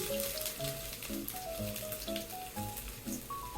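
Panch phoron, bay leaves, cardamom, cinnamon and chopped ginger sizzle steadily in hot oil for a soybean pulao, a soft continuous frying hiss beneath quiet background music.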